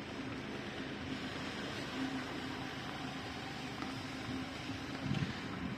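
A tractor-driven reaper harvesting wheat in a farm field, heard as a steady, fairly distant engine drone with a low mechanical hum and wind rumble, continuous and unbroken throughout.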